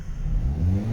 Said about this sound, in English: it revs all the way up